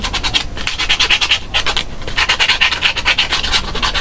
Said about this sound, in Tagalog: Sobrang liha na natin para solid.